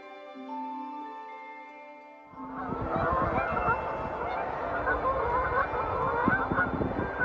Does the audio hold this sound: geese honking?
yes